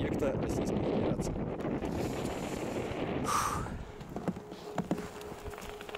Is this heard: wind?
yes